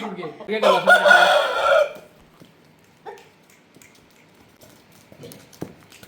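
A loud rooster crow rings out close by, then fades into quieter scattered rustling and faint knocks.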